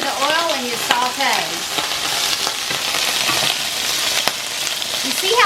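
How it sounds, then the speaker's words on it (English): Peppers and onions sautéing in hot oil, a loud continuous sizzle with crackles, while a voice speaks briefly at the start and again near the end. "The peppers, you just basically add to the oil and you saute."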